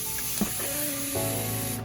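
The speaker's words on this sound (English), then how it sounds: "I have my trusty dusty spray bottle here, and I'll go ahead and just start spraying" A spray bottle mists aloe vera onto hair in a couple of close, short hissing bursts with no talking.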